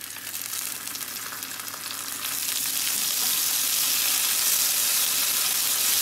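Garlic, then tomato paste, fry in hot oil in a pan for chicken pasta. A close, steady sizzle and crackle builds louder after a couple of seconds and holds as a dense hiss, with no talk.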